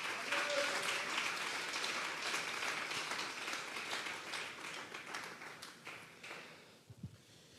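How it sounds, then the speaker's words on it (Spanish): Church congregation applauding during a Sunday service, a dense sustained wash of clapping that gradually thins and fades toward the end, with a few scattered final claps. "Vamos a darle un fuerte aplauso pues al Señor."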